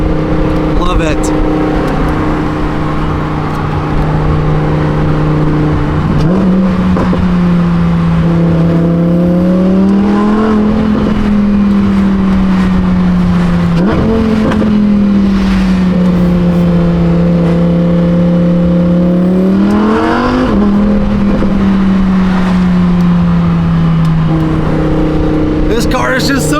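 A Lamborghini's engine revs hard out of corners, a loud droning note that repeatedly rises and dips in pitch with each acceleration and shift, close and continuous from the cabin.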